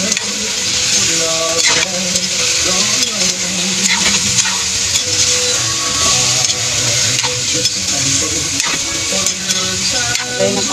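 Frog (palaka) cooking adobo style in a pan, a steady loud sizzle and frying hiss with occasional stirring scrapes, continuous throughout.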